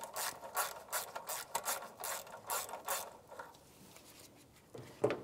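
A ratchet with an 8mm socket loosens hose clamps near the throttle body of a 1992-1996 Ford F-150, making quiet rapid clicking bursts in a short rhythmic series that fade toward the end.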